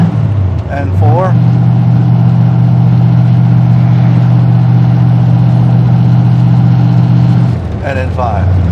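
A 1970 Ford Mustang Fastback engine pulls steadily under load through the gears, a loud sustained low drone, with brief shifts near the start and end where the engine note rises and dips.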